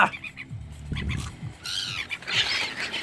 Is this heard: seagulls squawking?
yes